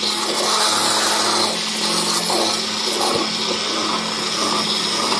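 Kitchen blender running continuously to mix gathiya batter made with papad khar, a loud steady whirring roar that holds for several seconds with slight shifts in pitch.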